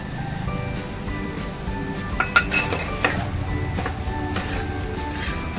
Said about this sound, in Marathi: आणि परतवून घेऊया.